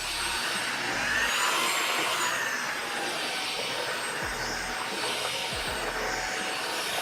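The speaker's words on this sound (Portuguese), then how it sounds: "Tá aspirando e tá fazendo isso muito bem." ABIR VC205 vacuum cleaner running indoors, a continuous whining hum at moderate level with a few soft thumps as it passes over the floor, no talking.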